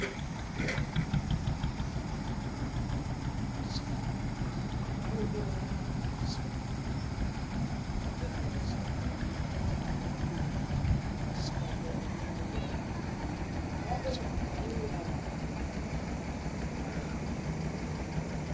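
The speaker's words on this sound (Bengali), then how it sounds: "আর একটি নৌকা যাচ্ছে দেখেন আপনারা নৌকা ঘুরছে" A boat engine on the Turag river at dusk drones low and steady throughout, with a faint rhythmic chug. A voice speaks over it most of the time.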